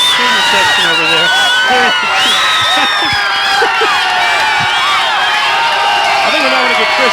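A crowd cheering and whooping in the stands at a 2003 high school football game, Wampus Cats versus Van Buren, with a loud, sustained roar of many voices, shrill whistles and yells, and commentators talking over it.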